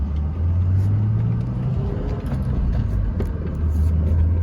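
A manual car is put back into gear and pulls away from a stop sign, its engine a loud, close low rumble that rises in pitch as it accelerates.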